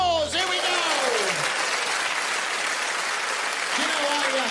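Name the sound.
audience round of applause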